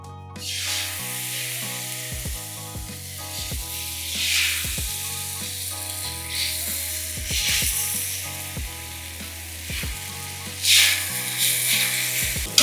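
Tomato rava dosa batter hisses loudly on a hot pan, a steady close sizzle that swells and fades with occasional scraping, while soft background music plays and no one talks.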